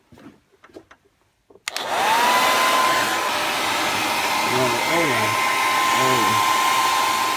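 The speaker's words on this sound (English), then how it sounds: "So I'll try some hair dryer on it so it's a bit warmer." A hair dryer switches on after a few quiet knocks and blows steadily on a car's coolant drain petcock, with a loud, continuous whooshing hum that stays close and unbroken.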